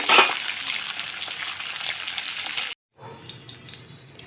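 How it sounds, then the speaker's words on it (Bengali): Pabda fish fry in hot oil with a bright, steady sizzle heard up close. The sizzle cuts off abruptly partway through, then quieter kitchen clatter follows with no talking. "এইভাবে সবটি মাছ আমি ভাজা করিলাই"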